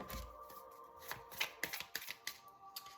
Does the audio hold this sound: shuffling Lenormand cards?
yes